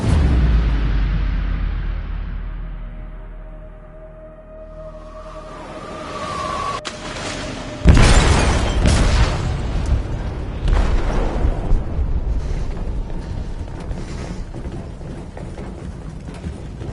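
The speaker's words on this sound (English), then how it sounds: "They detonated an explosive in the hold." An explosive goes off in a ship's hold with a sudden heavy boom, then a long loud rumbling roar and crackling debris that slowly settles, with no voices over it.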